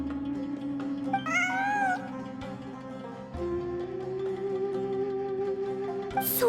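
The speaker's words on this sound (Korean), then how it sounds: "진짜 고양이야." A cat meows in a few drawn-out, rising and falling calls amid a steady droning background, inside a mysterious ancient ruin, moderately near and clear.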